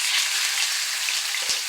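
A halibut fillet sears in a hot pan with a loud, dense, even sizzle that holds steady the whole time, close up, with no talking.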